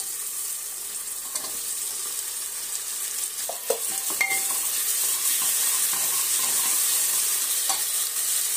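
Finely chopped tomatoes frying with onions for pav bhaji sizzle steadily, broken by several scraping stir strokes and light clinks of a spoon against the pan near the middle.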